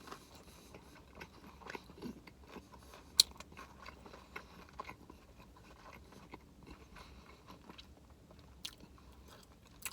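Quiet, close crunches of someone biting and chewing a Panera flatbread pizza, scattered crisp snaps over a soft chewing background, no talk.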